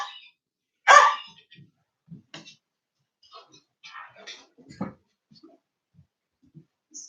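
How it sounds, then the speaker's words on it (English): A pet dog indoors lets out a sharp, loud bark, then several quieter, scattered yips and huffs spaced over a few seconds, with a person's voice mixed in. "Stop that barking."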